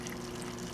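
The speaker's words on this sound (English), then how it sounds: "where the water comes back into the tank. I hear that a lot" Water from a Cobalt needle wheel protein skimmer pump pouring back into an aquarium tank, a steady close gushing rush with no breaks.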